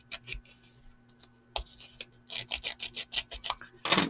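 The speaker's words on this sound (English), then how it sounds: "And also give it a sanding" Small vintage ID tag edges being sanded by hand, a series of short rhythmic scratchy rasping strokes, close and fairly quiet, with a few brief pauses between bursts.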